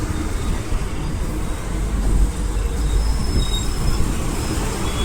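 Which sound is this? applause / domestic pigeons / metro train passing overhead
metro train passing overhead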